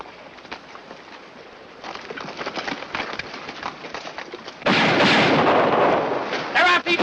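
Gunfire in a Western film: scattered sharp shots crackle in the distance, then a heavy, loud burst of firing erupts near the end, with faint voices in the mix.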